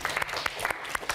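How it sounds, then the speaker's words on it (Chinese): Brief applause for a group of students in a television studio, a light scattering of separate claps, fairly close and moderately loud. "请给他们掌声"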